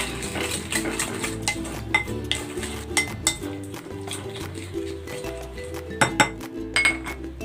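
Utensils clink against a bowl while stirring a Filipino crispy pork belly mix of cucumber, spring onion, garlic, onion and siling labuyo chili, with steady close clatter and scraping and sharper clinks near the end.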